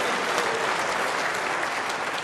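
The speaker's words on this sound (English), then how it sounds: "The biggest cheer so far today." Snooker crowd breaking into loud, sustained applause and cheering in the arena, dense clapping at an even level from start to finish.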